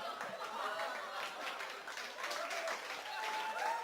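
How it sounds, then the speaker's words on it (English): A high school audience claps after a radio drama performance, a moderate, steady patter of applause lasting a few seconds, with talk over it. "You can clap for me."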